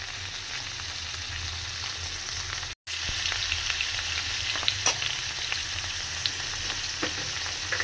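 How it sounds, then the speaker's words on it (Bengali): Paneer fries in a pan with an even, constant sizzle, while occasional light taps and scrapes come from stirring and turning the pieces; the sound is close and moderately loud, with a brief dropout early on and no talk. "একটু শুধু নাড়িয়ে চাড়িয়ে উল্টিয়ে পাল্টিয়ে ভেজে নেওয়া।"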